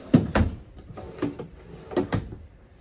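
A few wooden drawers slide and bump shut nearby inside a 2021 Wildwood 24RLXL travel trailer, several short knocks and thuds spread over a couple of seconds.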